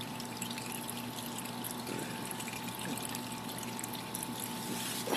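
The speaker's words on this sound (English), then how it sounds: "If it's still hot, I would just let it drip like that" Warm motor oil drips and trickles steadily from the drain on a 2010 Kawasaki Ninja 250 motorcycle during an oil change, a faint, continuous pour with no voices.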